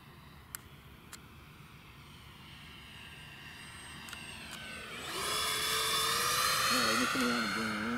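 A MiG-21 jet aircraft in flight, its engine a steady roar that swells sharply about midway and holds loud, with rising and wavering engine tones and a few brief clicks early on.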